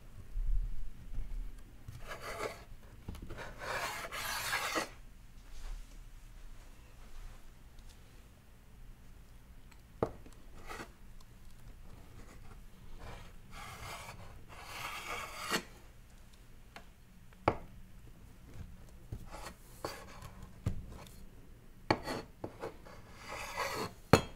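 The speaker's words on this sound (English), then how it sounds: "we're gonna take the whole ball of dough, and then we're gonna cut it into, I believe it's eight." A knife slices through a ball of soft pretzel dough on a cutting surface, giving repeated rasping, rubbing strokes in short bursts separated by quiet pauses, with occasional sharp taps of the blade.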